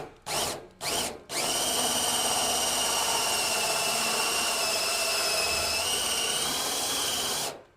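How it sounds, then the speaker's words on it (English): After two short trigger blips, a power drill runs steadily through a plastic rain barrel with light pressure, giving a loud, sustained whine for about six seconds that cuts off abruptly. "I'm letting the weight of the drill do the work."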